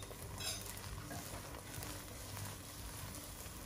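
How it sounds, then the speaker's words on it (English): Singapore-style egg and carrot cake pan-fries in a wok, a steady close sizzle and crackle of oil running without pause. "We'll fry this until it's sort of semi-solidify in the center before we flip it over."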